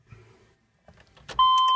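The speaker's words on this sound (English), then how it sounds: "Let's actually just turn the key on for a sec." A 1999 Chevy Tahoe's ignition key turns to on, bringing a loud, steady electronic chime tone after a few quiet clicks and rustles inside the cab.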